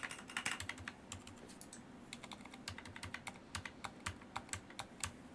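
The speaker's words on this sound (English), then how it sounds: "these are the clacky cherry reds" Rapid keyboard typing on clacky Cherry MX Red mechanical switches, close and fairly quiet, with bursts of sharp keystrokes separated by brief pauses and no talk.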